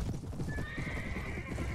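Horse hooves clip-clop at a gallop in the medieval battle game Mount & Blade, with a whinny rising partway through, steady and close over the din of combat.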